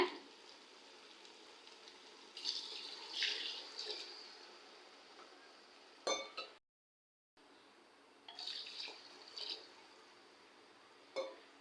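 Water poured into a cooking pot for chicken biryani rice, soft splashing and trickling in short bursts with a brief silent gap midway, faint and close.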